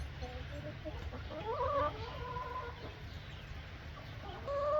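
Several chickens cluck and murmur close by on a homestead pasture, soft, irregular calls rising and falling over a low background hum.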